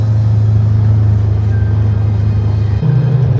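ATV engine driving through Alaskan backcountry near Matanuska Glacier and Hatcher Pass, a steady loud low rumble throughout with a brief shift in pitch near the end, close and without talk.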